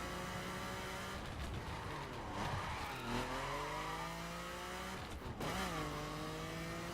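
Engine of a Miura in the racing game The Crew revving and shifting through gears, a steady whine rising and dropping at each gear change, with brief tire squeal, loud and continuous.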